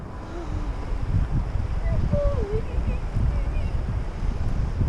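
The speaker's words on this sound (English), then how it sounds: "So the wind may mess with us a little bit today too" Steady wind rumbles and buffets the microphone beside a cold trout stream during a guided fly fishing lesson in Cherokee, North Carolina, with a low, continuous roar throughout and faint voices underneath.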